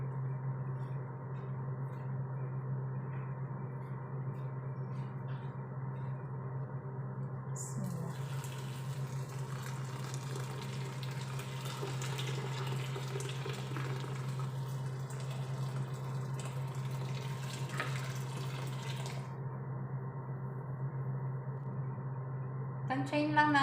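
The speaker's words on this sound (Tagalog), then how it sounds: "At lagyan natin siya ng water." Tap water running into a pot of basmati rice in a home kitchen, a steady faint trickle over a constant low hum that grows into a brighter splashing rush midway before settling again.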